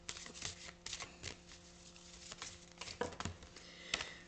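Tarot cards being shuffled and drawn, a quick run of soft riffling flicks and papery taps close up, with brief pauses between bursts in a quiet room.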